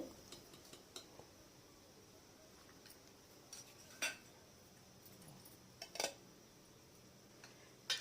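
Metal utensils clink faintly against a tiffin box as fish curry is packed, with a few sharp, sparse taps and scrapes spread over a quiet background.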